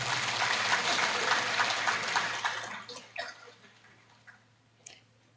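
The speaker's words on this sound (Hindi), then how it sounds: "ताली बजा सकते।" An audience applauds together, a dense clatter of clapping that thins out after a few seconds into scattered last claps before fading to quiet.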